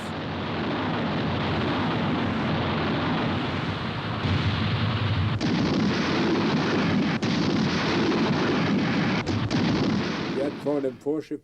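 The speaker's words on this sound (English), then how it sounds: "the Bismarck was engaged the following morning by the British fleet, being hit repeatedly by the battleships Rodney and King George V" Heavy naval gunfire from the WWII battleships Rodney and King George V strikes the German battleship Bismarck: loud, continuous rumbling booms and blasts, ending with several sharp, separate reports.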